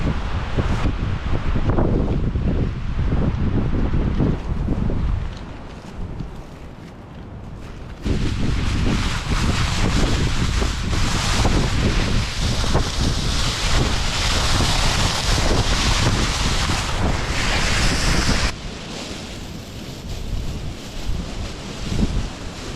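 Strong storm wind roaring through a forest, loud and continuous with gusting surges, dipping briefly before rising again to a sustained rush and easing slightly near the end.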